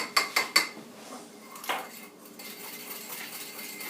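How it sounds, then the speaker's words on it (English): Metal cutlery knocks against a bowl while mustard salad dressing is mixed, with three sharp clinks at the start followed by softer scraping and stirring close by. "And you're just going to mix this until it's nice and smooth and there are no little blobs of mustard left."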